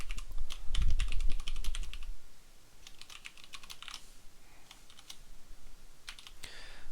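Code being typed on a computer keyboard for a robot programming exercise, with rapid clustered keystrokes at close range and brief pauses, plus a low thump near the start; nobody speaks.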